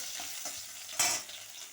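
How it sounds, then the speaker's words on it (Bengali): Onion and five-spice seeds fry quietly in mustard oil as a utensil stirs the pan, giving a soft sizzle with a brief louder scrape and hiss midway. "একটু পেঁয়াজ ফোড়ন দেব নাড়া দিয়ে নিই"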